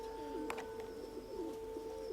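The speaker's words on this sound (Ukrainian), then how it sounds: "Сів голуб один." A single pigeon settling near its loft in spring, giving soft, repeated low coos in a steady run, fairly close, with a couple of brief higher chirps and faint background hum.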